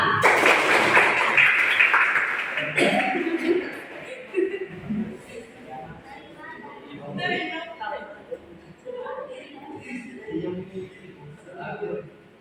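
Students clapping their hands in a classroom, a loud burst of clapping in the first couple of seconds that quickly fades, followed by a teacher talking and some chuckling.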